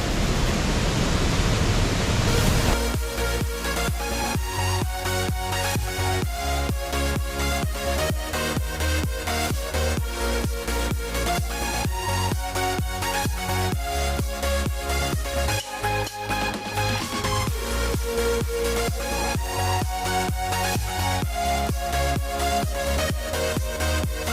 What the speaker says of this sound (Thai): วิวน้ำตกก็ จะประมาณนี้นะครับเนาะ